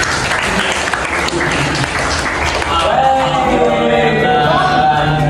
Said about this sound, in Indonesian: Bisa beri tepuk tangan untuk temannya.